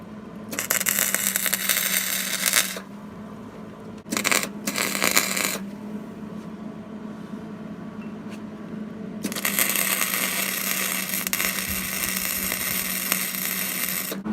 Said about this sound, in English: I'm going to tack it in place with my MIG welder.